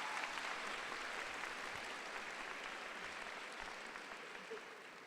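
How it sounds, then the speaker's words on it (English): Graduation audience at a veterinary medicine ceremony clapping, a broad wash of applause that is faint and distant and slowly fades toward the end. "You deserve a round of applause for putting up with me."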